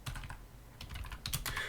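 Fingers tap out quick, irregular clicks on a computer keyboard, close up and soft, with short bursts of keystrokes separated by tiny pauses.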